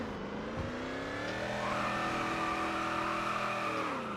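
A Hellcat car's engine revs hard and climbs in pitch while drifting in the video game Driving Empire, a steady, close, high-horsepower whine with a faint tire squeal.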